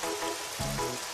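Rain falling as a steady, soft hiss of drops on a surface, faint and continuous for a brief moment, with a low thump partway through.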